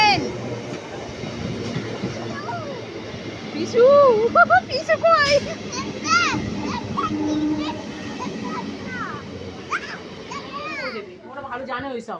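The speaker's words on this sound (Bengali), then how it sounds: "এই ট্রেন" A train rumbles past in a steady roar with rhythmic rail clatter, fairly loud and close, while excited children shout and squeal and adults talk over it throughout.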